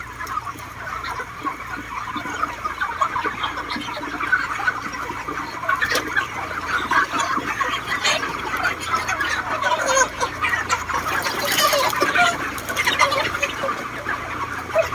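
A dense chorus of chickens clucks continuously inside a chicken farm in Israel, many birds overlapping near and far, with a voice talking faintly beneath at times.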